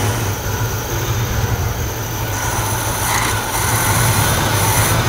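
A car engine with a Quadrajet carburetor runs at a high idle with a misfire, a loud, close, steady rumble with a low pulsing undertone and a harsh broadband roar, no talking.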